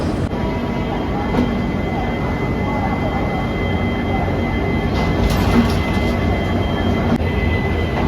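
On board the Howrah–Bolpur Shantiniketan Express, hauled by WDP4D diesel locomotive 40418, a loud, continuous rumble of wheels and engine carries on without a break, with occasional faint clanks.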